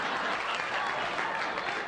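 Audience applause at a live show, a steady wash of clapping from a crowd, moderately loud and sustained throughout without any words spoken.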